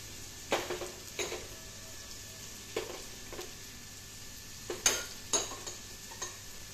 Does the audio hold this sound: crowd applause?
no